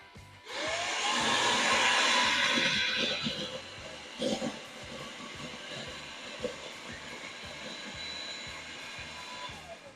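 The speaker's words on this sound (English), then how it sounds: "That very strong suction comes into play there with that brushless motor at 23K pascals." A MOOSOO K17G budget cordless stick vacuum with a brushless motor runs with its crevice tool attached, a loud, steady, high-pitched whine that starts abruptly and holds, with a few brief bumps and rattles partway through.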